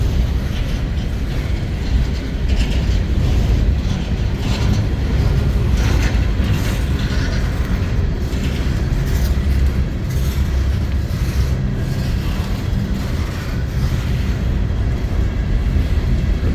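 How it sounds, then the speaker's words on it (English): Continuous low rumble and clanking of an empty coal train rolling past, steady and fairly loud throughout with no voices. "Empty coal train."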